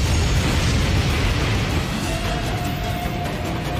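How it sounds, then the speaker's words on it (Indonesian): A loud, sustained roaring blast from an animated film fills the clip, a dense rumbling explosion that keeps churning without letting up. "memicu ledakan besar guna membakar tim Dewa Iblis"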